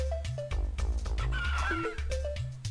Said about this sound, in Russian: Сейчас петух ещё выбежит